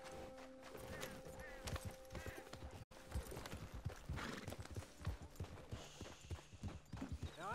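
Horse hooves clip-clop in a steady rhythmic gait in the video game Red Dead Redemption 2, moderately loud and close, with game ambience and brief voices mixed in.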